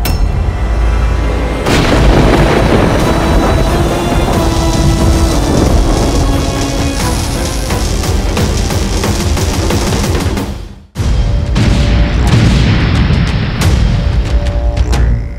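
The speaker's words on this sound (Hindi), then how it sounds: "अब देखो रावण के बाणों की आंधी।" Battle sound effect from the Shrimad Ramayan series, a storm of Ravan's arrows and weapon blasts: continuous loud rumbling booms and rapid volleys, cutting out briefly near the end before resuming.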